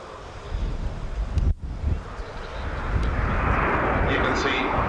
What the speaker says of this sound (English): the acrobatic flight of the Italian Air Force Aerobatic team